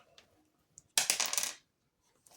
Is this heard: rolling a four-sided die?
yes